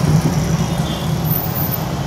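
A jammed road at peak hour near a protest gives off a dense, steady rumble of car and bus engines nearby, a constant low drone with no clear speech.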